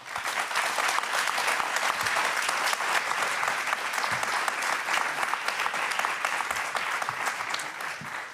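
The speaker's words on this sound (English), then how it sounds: "a big applause to all of them and to Ira Millstein." Sustained applause from a seminar audience on corporate governance, honoring panelists and speakers; dense, even clapping from many hands fills the room at steady volume throughout, with no talk over it.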